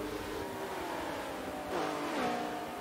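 A Porsche GT race car in a sim racing event at the Nürburgring GP circuit screams past, its engine note climbing and then dropping in pitch as it sweeps by, fairly faint against a steady engine drone.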